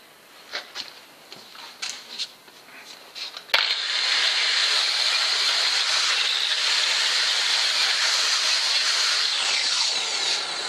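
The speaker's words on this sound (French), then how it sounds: "Je pensais que le Karcher allait faire des miracles, mais il faut encore brosser." A Kärcher pressure washer blasting a hardened, crusted inertia drill. Several light knocks and scrapes come first, then a loud, steady jet hiss cuts in abruptly and runs on close and unbroken.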